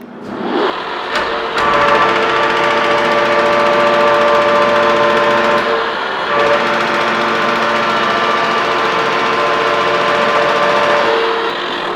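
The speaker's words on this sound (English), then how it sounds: "So let's start up the mill and let's make a cut and see what you think." A milling machine spinning up and cutting into metal at 215 RPM, a steady loud mechanical whine with sustained tonal hum after a clunky start, holding steady with a brief dip midway.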